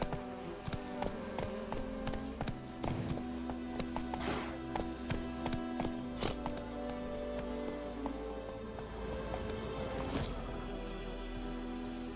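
Horse galloping in The Witcher 3, a steady rhythmic clip-clop of hooves running on for the whole stretch over a dense bed of game music and ambience, with occasional louder thuds.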